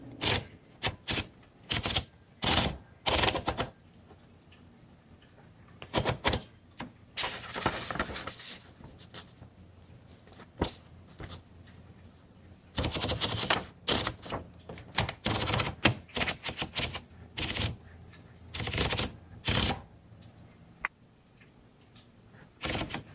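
A 1936 Corona Silent Flat Top typewriter types in bursts of rapid, close key strikes, separated by short quiet pauses, with faint mechanical clatter between runs.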